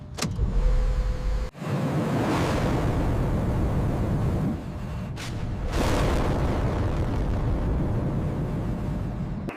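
Aircraft engine 1 spooling up during a start on the flight line, a steady loud roaring whoosh that swells in broad surges, punctuated by a couple of sharp bangs.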